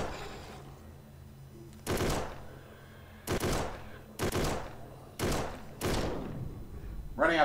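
Gunfire in the zombie shooter game Containment Initiative: five separate loud shots spaced about a second apart over a low background hum, ending with a short mechanical click.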